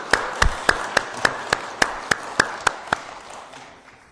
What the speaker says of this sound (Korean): 우리 하나님께 감사와 영광의 박수를 올려드리면 좋겠습니다